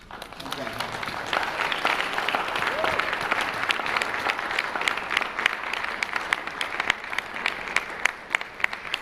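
Steady applause fills a conference hall at the Africa Job Creation and Trade Conference in Abuja, with many hands clapping in a dense, continuous wash that holds evenly from start to finish.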